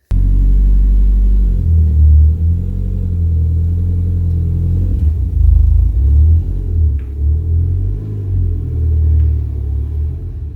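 A 1988 Ford Escort RS Turbo on the road, its engine giving a steady, loud low rumble throughout, with slight surges as the car moves along; no one speaks.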